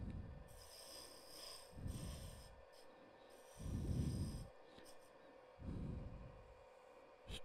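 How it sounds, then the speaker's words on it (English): A hand scraper doing negative rake scraping on metal, three slow rasping strokes at an even pace, each a dull grinding rub, heard close with quiet gaps between strokes. "Now this is negative rake scraping."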